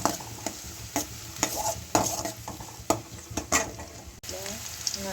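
Finely chopped onions sizzle in oil while a spatula scrapes and stirs the pan in repeated, uneven strokes.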